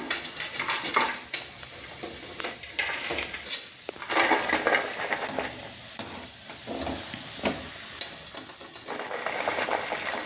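Butter pakoda fries in hot oil with a loud, continuous sizzle and crackle, broken by close stirring scrapes and clinks of a utensil against the pan.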